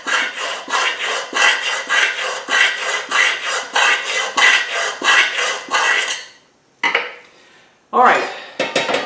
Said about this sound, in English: kind of working the round file into these corners